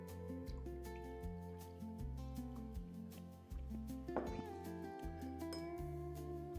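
Fermented green tea poured out into a glass: trickling, splashing liquid with glassy clinks and a few bubbly squishes, quiet and close.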